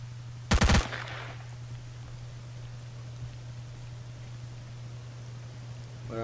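A quick burst of automatic gunfire in the shooter game S.T.A.L.K.E.R. Shadow of Chernobyl, several sharp rapid shots close together and loud, then quiet over a steady low hum.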